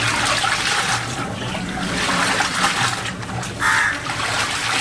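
Plain water splashes and trickles steadily onto Kutch bandhani tie-dyed fabric, a close, continuous wet pouring sound with a brief brighter gush near the end.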